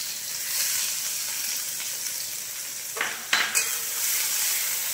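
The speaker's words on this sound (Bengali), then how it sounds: "তেল আমাদের গরম হয়ে গিয়েছে, দিয়ে দিলাম ছোট ছোট কুচি করা পেঁয়াজ দিয়ে দিলাম" Chopped onions tipped into hot oil for a prawn dish, giving a steady broadband sizzle throughout with a couple of sharp stirring or utensil clicks near the end, close and moderately loud with no talk.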